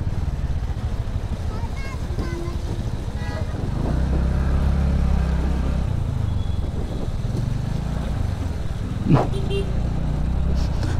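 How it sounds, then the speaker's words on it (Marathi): Congested road traffic, with cars and motorcycles idling and creeping along, makes a steady engine rumble close by, with a brief horn-like tone rising near the end. "काय हे ट्रॅफिक रे बाबा."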